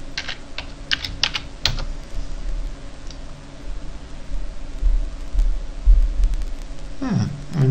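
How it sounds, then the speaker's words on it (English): Typing on a computer keyboard in a Linux software tutorial, bursts of quick near clicks early on, then sparse taps over a low steady hum, with a final flurry of keystrokes at the end. "Let's see if we have it by typing Thunderbird."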